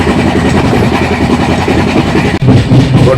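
Steady, loud rolling rumble of a passenger train jolting along the rails on an overnight Mumbai to Hyderabad journey, heard from inside the carriage, continuous with a brief dip partway through and no talking.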